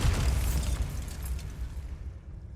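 A Bombarda spell detonates in Hogwarts Legacy, a single loud, low blast that booms and then rumbles away over a couple of seconds.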